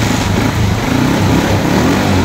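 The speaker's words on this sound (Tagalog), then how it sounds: "Napaandar na natin yung motor guys." A Motor Star 125 motorcycle engine, converted to battery ignition after a failed primary coil, runs steadily at idle with a loud, close, sputtering rumble and no voices.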